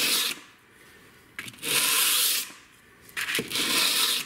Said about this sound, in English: just start draw filing the edge of our blade